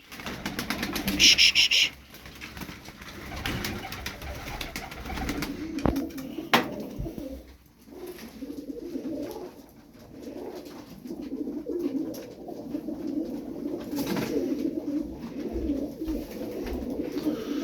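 Tumbler pigeons coo in low, rolling murmurs throughout, with a burst of wing flapping near the start and occasional flutters later.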